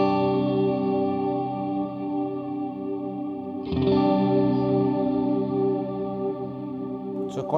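Electric guitar played clean through a Jet Pedals New Revelation reverb pedal on its plate setting with heavy modulation, sustained chords ringing with wavering chorus-like shimmer and a long smeared tail, with a fresh strum partway through.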